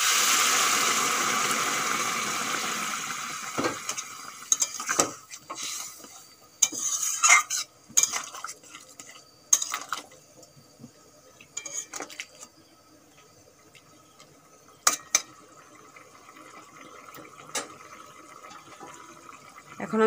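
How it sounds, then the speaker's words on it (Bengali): Hot water poured onto fried vegetables in a pan, starting with a loud hissing sizzle that fades into sparse stirring clinks and scrapes, with no talking. "আমি গরম জল দিচ্ছি"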